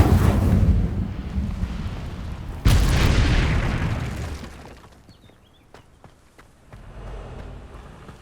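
An Incendio fire spell in Hogwarts Legacy erupts in a loud, roaring blast, with a sharp boom near the middle before the fiery rumble fades into quieter sounds.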